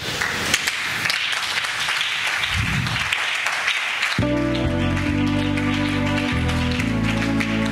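A church congregation claps steadily to acclaim Jesus for about four seconds, then the clapping gives way to sustained organ-like musical chords.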